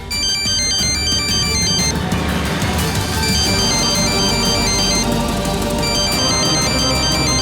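A bright electronic ringtone plays a repeating melodic pattern, loud and continuous over a busy background, with no one speaking.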